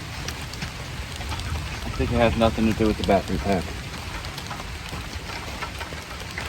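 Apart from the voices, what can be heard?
rain falling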